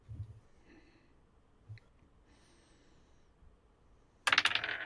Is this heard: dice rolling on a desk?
yes